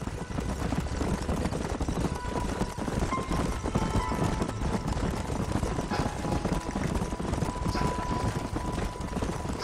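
Horses gallop steadily across open country in Red Dead Redemption, a dense, continuous drumming of hooves under faint game score, with no talk.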